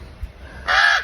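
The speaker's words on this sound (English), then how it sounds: "Well, those are some nice crows." A crow gives a single loud, harsh caw close by, following a quiet pause with a faint thump.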